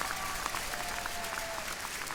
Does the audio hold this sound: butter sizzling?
no